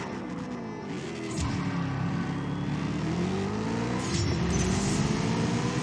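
Cars revving and accelerating in a CSR2 video game drag race against Ferrari Californias, a loud continuous engine drone with rising gear sweeps and a brief dip near the shift points.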